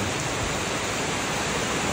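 Steady heavy rain pouring down outdoors, a dense continuous hiss that stays loud and unbroken throughout, with no voices.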